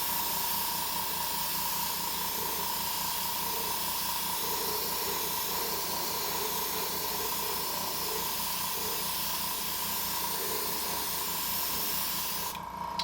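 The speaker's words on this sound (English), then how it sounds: "you can see we've got a nice even spray on our mask here" An airbrush sprays paint steadily onto an Aztec paint mask for a 1:350 scale Enterprise refit model, a continuous close hiss with a constant tonal whine running unbroken for the whole stretch.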